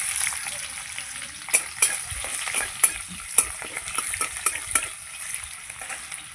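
Onions dropped into hot oil sizzle loudly up close, a bright crackling hiss punctuated by a quick series of sharp stirring clicks and spatters.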